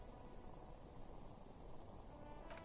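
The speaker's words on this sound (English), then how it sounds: "All around you, rain falls on the great city of Revachol." Steady rain falling on a city in the video game Disco Elysium, a dense continuous patter and hiss at low volume with no voices.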